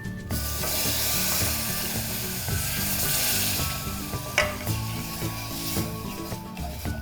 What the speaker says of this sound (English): So at this point we will start by adding the milk.